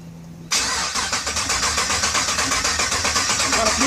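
An LS3 V8 swapped into a 1991 S10 Blazer, fuel pump hot-wired, cranks briefly and catches, then settles into a loud, steady, lopey idle with a rhythmic pulsing exhaust close by.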